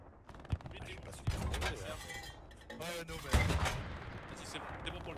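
Gunfire in the World War II shooter Hell Let Loose during an immersive community event: a few sharp shots and bursts, one cluster loud and close, mixed with voices talking over game noise.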